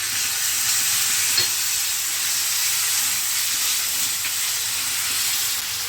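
Large tomatoes hit hot oil in a frying pan for chana dal with karela, producing a loud, continuous close sizzle and hiss that barely changes, with no voices.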